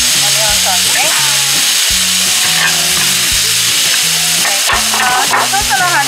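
Onion sauce poured over a genkotsu hamburger steak on a hot iron plate at a Sawayaka restaurant sizzles loudly and continuously, with voices talking nearby throughout.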